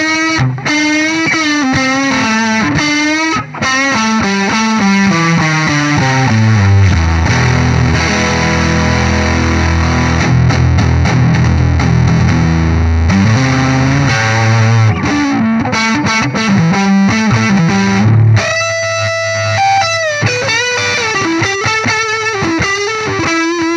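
Electric guitar runs through a Cornell Legacy Fuzz pedal set to maximum fuzz, giving a thick, saturated, sustained distorted tone with chords and single-note lines and a raised noise floor, played continuously and loud with no talking.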